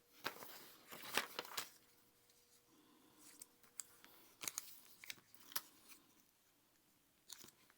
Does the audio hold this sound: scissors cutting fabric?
yes